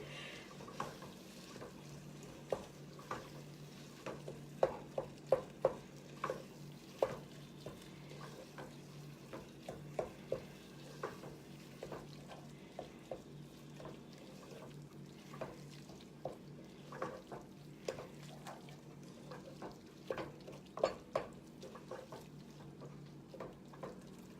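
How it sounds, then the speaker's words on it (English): Sausage and ground beef browning in a pot for stuffed pepper soup, giving a steady low sizzle broken by frequent sharp clicks and scrapes of stirring throughout, with no talking. "almost done here, you guys, with the browning part of the recipe"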